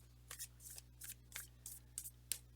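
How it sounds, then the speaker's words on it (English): A deck of playing cards shuffled by hand during a tarot-style reading, giving a quick series of about seven crisp riffling bursts, close and fairly quiet. "maybe just do one more shuffle here"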